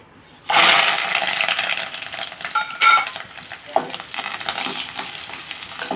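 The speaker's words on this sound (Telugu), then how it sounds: "ఇప్పుడు వంకాయ వేపుడు చేసుకోవడానికి పోపు దినుసులు వేసుకుంటున్నాను" Tempering spices hit hot oil in a pan for an eggplant fry, bursting into a loud steady sizzle that continues with stirring and a few utensil clinks.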